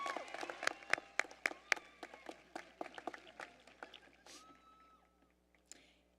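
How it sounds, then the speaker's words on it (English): An audience at a school district event claps for students, the applause starting fairly strong and quickly thinning into scattered, distinct individual claps that fade out, heard at a distance in a large room. "Let's give these students a round of applause."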